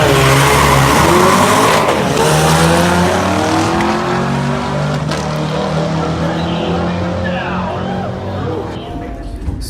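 A 6-speed EcoBoost Mustang and a Camaro launch at the Irwindale Speedway drag strip. Loud engines roar with tire squeal and skidding, and an announcer's voice is heard over the cars.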